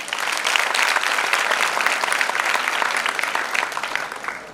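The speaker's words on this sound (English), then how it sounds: "A huge round of applause for him." Sustained applause from a seated audience at a speech event in Bandra, a dense, even patter of many hands clapping for several seconds without talk.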